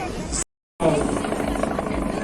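A Kazan Helicopter Plant helicopter maneuvering during an air display, a loud continuous rotor and engine roar with a brief cut-out near the start, while a commentator talks over it.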